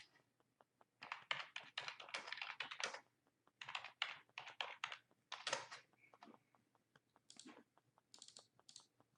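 Someone types on a computer keyboard: quick bursts of close, crisp key clicks with short pauses between words, fairly quiet and with no voice over it.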